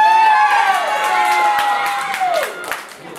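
Crowd at a live wrestling event cheering and shouting, a loud sustained roar with high whoops and whistles riding on top, gradually easing toward the end.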